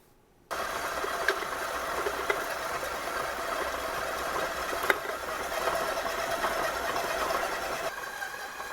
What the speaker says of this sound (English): Mix for 2 to 3 minutes, and you should end up with a perfect cheese bread dough.